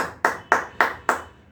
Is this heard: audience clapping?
yes